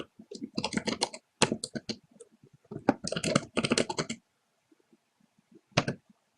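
Bursts of rapid key clicks come from typing on a computer keyboard, close and crisp, in quick runs broken by pauses, with a last short flurry after a gap.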